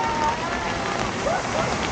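Steady rain falls in a dense, even hiss, heard while sheltering under a roadside vegetable stand during a bike ride from Cagayan de Oro to Malaybalay, Bukidnon; a faint whistle-like tone drifts through briefly.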